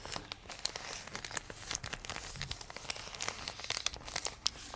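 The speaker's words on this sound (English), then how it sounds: "This is some crinkly kind of wrapping paper." Crinkly wrapping paper is crumpled close up in quiet, irregular crackles and rustles, with no talking.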